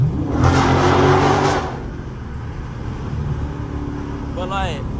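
A Dodge Charger's engine revs loudly for a moment on a city street, then settles into a low rumbling drone as it drops gears, with road noise carrying on underneath.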